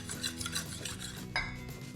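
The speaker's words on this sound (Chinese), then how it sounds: "把蛋黄搅拌均匀。" Egg yolks being whisked in a bowl until smooth, a close, continuous swishing stir with faint utensil scrapes against the bowl over a brief stretch.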